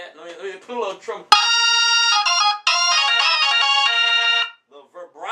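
A keyboard's trumpet voice plays through a vintage Leslie speaker as two loud, sustained, bright brassy notes with slight vibrato, preceded and followed by someone talking.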